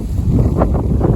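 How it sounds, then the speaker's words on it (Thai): Strong wind buffets the microphone outdoors at an orchard garden in Japan, a loud, steady low roar and rumble with no break, no voices heard. "ลมแรงมากเลย"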